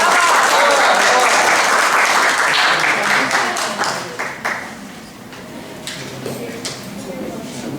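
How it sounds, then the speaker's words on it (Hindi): An audience at a creative workshop bursts into loud applause that gradually thins and fades, leaving scattered claps and room noise while people start talking. "तालियां"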